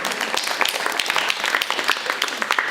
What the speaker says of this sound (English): I'm ready to get a round of applause